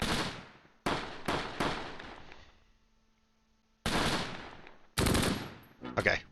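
Gunfire in the Close Combat video game, set near Cassino in June 1944: sharp loud bursts and single reports in an irregular sequence, with short decaying tails and a quiet gap in the middle.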